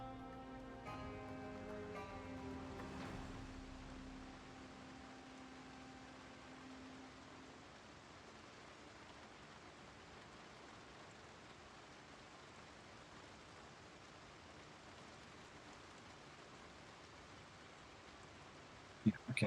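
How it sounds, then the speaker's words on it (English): Steady rain falls in a survival video game, a faint, even hiss of pattering drops that continues alone, with a low hum fading out early on. "Ooh, it's raining."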